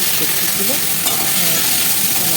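Chow noodles stir-fried in a pan with egg, onion, chopped ginger and garlic, giving a loud, continuous close sizzle with constant stirring and tossing.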